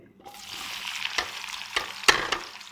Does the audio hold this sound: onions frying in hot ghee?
yes